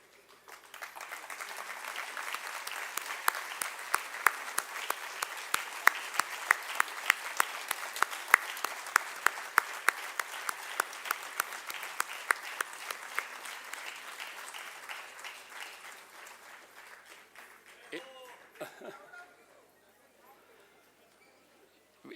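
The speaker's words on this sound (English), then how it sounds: "all of you all stand and give him a standing ovation" An indoor audience gives a standing ovation at an evening temple ceremony, dense sustained clapping with sharp individual claps standing out, swelling and then fading away over about twenty seconds, with voices briefly heard at the end.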